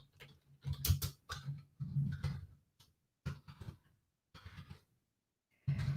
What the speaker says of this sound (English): I'm typing it in for you.